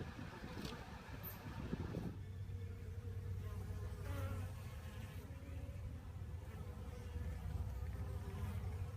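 Bees hum around a swarm trap outdoors, a dense continuous buzz with individual bees passing near the microphone, and a faint low rumble underneath.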